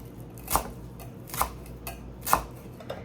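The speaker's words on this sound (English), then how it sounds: "I take them and I try to bring them in and roll them up as tight as I can, and then start slicing, kind of a smaller slice" A knife slices through a tightly rolled bundle of cilantro for mango lime salsa, giving four crisp, evenly spaced chops on a cutting board, fairly close and clear with no talk.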